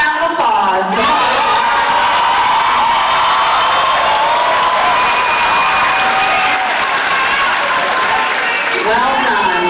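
Graduates at a Troy University Phenix City spring commencement get loud, continuous applause mixed with whoops, shouts and cheering from a big crowd, with voices calling out over the clapping.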